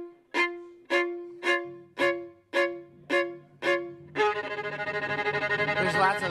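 A lone violin played without a mute sounds a run of seven evenly spaced, bright plucked or bowed notes, then sustains a fuller, richer tone to the end, clear and close with no talk.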